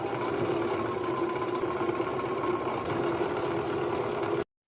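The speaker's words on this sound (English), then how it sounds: "then we take it back to the sewing machine" A sewing machine stitches patchwork sweatshirt pieces in a continuous, steady mechanical whir, close and even, ending abruptly.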